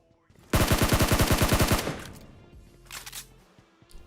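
A rapid burst of automatic rifle fire rattles loudly for over a second in PUBG Mobile, during a firefight in Pochinki. A few fainter shots and a trailing echo follow.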